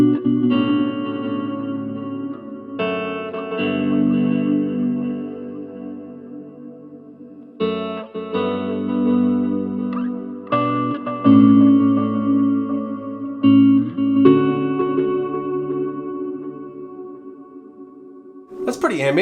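Electric guitar run through a Line 6 POD Go with ambient reverb, sustained chords and notes swelling into long shimmering washes that hang and overlap, loud and continuous with short gaps between phrases.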